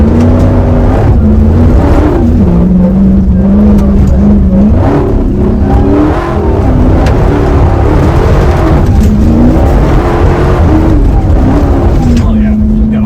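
A Jeep's engine revs hard and steadily while a rear wheel spins, a loud continuous drone with rising and falling pitch that holds through the whole stretch, with voices speaking over it.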